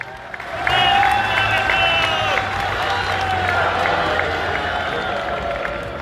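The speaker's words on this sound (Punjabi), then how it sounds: "ਇੱਕ ਵਾਰੀ ਹਰਿਆਣੇ ਦੇ ਨਾਂ ਦੇ ਉੱਤੇ ਤਾੜੀ ਮਾਰੋ ਯਾਰ" A crowd at a farmers' protest rally in Australia bursts into sustained applause, dense clapping mixed with a few cheers and shouts that hold steady before easing slightly.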